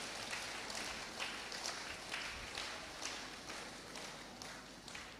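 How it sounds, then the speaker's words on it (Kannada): Worshippers at a Lenten church retreat at the Infant Jesus Shrine in Mangaluru clap together in a steady, rhythmic beat, a faint and slightly distant patter that continues evenly throughout. "ಚಪ್ಪಾಳೆ ತಟ್ಟಿ, ಚಪ್ಪಾಳೆ ತಟ್ಟಿ ಎಲ್ಲರೂ."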